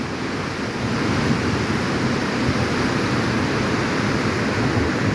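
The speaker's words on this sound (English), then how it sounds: "They got multiple ledges on these things, pouring off the water in different ways, all regulating flow perfectly" Flood water pouring steadily off multiple ledges of a flow-regulating structure, a continuous dense roaring rush at constant loudness with no voices.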